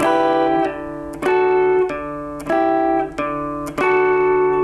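Plucked guitar notes ring out in repeated phrases, a fresh strum or pick attack arriving about every 0.6 seconds with notes sustaining between them.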